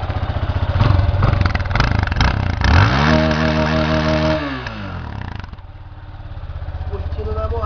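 A red and black 2013 Yamaha Fazer flex motorcycle engine idles close by, then revs up in a rising, droning pitch that holds before settling back to a lumpy idle, with people talking over it.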